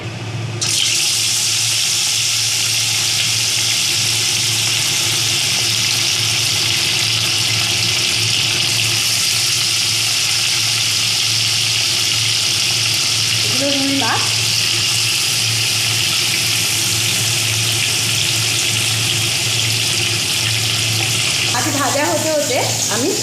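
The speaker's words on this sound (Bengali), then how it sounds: "আমি আমার কুচিনা মেশিনটা অন করে দিলাম" A kitchen exhaust machine runs with a steady, loud whoosh while oil heats for frying rui fish, a constant close hiss throughout with a voice talking briefly over it.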